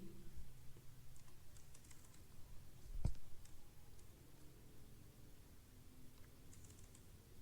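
Computer keyboard typing to delete text: scattered light key clicks close by, with one louder thump near the middle, and no voices.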